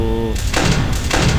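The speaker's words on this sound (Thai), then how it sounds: "อันนี้ปิดประตู" A security door slides shut in the Five Nights at Freddy's video game with a loud mechanical whoosh in two surges, heard under a man's nearby speech.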